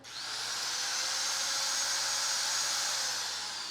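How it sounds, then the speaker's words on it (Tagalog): An angle grinder runs at a steady, high-pitched whine for a few seconds, spinning up quickly and holding an even, loud tone with a faint low hum beneath it, with no voices. "Ito po yung inyong angle grinder."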